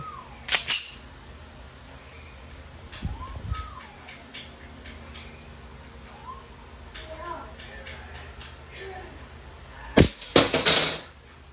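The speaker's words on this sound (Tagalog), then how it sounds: "Colt M45 CQBP firing." A Umarex Colt M45 CQBP full-metal CO2 steel-ball airgun fires a few sharp, isolated cracks spaced several seconds apart, with faint handling clicks and quiet sounds between shots.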